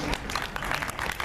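An audience at the opening ceremony of a geek convention breaks into a dense patter of clapping, with a voice speaking over the crowd during this short burst.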